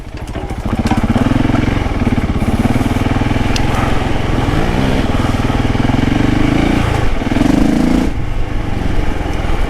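A Husqvarna 701 Enduro single-cylinder motorcycle engine labours loudly and steadily along a rough Yorkshire green lane, with a throbbing exhaust note that rises and falls with bursts of throttle throughout.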